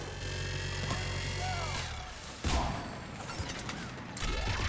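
Gunfire in the sci-fi shooter Mass Effect 3 rattles in bursts amid mechanical clanks and combat noise, with loud cracks around the middle and end of the stretch.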